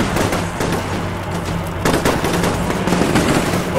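Rapid bursts of automatic gunfire crackle continuously in the Combat Mission: Shock Force war game, dense overlapping shots with a louder surge partway through, no talking.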